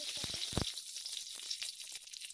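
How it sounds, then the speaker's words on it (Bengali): Dried red chillies dropped into hot oil left from frying small bata fish, a loud close sizzle with a few sharp crackles and stirring taps at the start, then a steady hiss. "এই তেলের মধ্যে আমি ফোড়ন দেব শুকনো লঙ্কা,"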